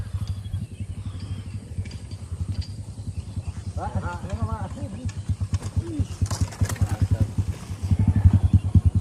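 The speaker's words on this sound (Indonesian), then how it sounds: "Ada sepeda motor, kawan-kawan." A motorcycle on a mountain trail on Mount Cikuray, its engine putting out a pulsing, chugging rumble that builds louder toward the end, with people talking over it.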